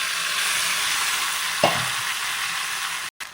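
Boiled jackfruit seeds and drumstick leaves dropped into a pan of frying onions, a steady close sizzle with one soft stir or plop partway through, ending abruptly.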